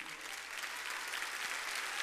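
Sustained applause from a church congregation during an evening Baptist service at Lagoinha, a dense steady wash of clapping filling the room at an even level throughout.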